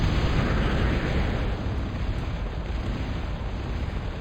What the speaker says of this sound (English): Constant shelling.